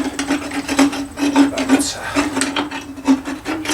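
A traditional hand float rasps across the teeth of a horse with a large head, giving repeated scraping strokes in a steady back-and-forth rhythm, close and fairly loud, with a low steady hum underneath.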